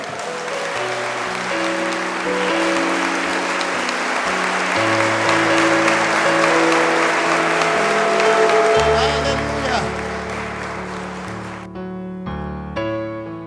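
A church congregation applauds loudly and continuously, a dense wash of many hands clapping, with sustained music and keyboard tones underneath that stop near the end.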